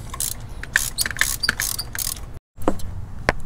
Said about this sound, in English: Take our extension. And we'll tighten the spark plug down.